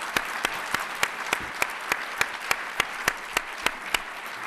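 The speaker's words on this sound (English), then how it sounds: "So I'd like to hear a little round of applause to the staff who made this happen." An audience at a city State of the City address claps steadily, with even, sharp claps in a regular rhythm and a wash of applause behind them.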